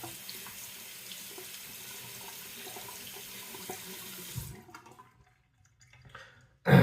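Tap water runs steadily into a sink to rinse a Gillette Labs razor during a shave, a close continuous rush that cuts off after several seconds, followed by a brief quiet and a sudden loud clack.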